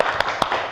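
A class performs the 'tepuk salut' rhythmic clap, giving two sharp claps in quick succession over a murmur of voices.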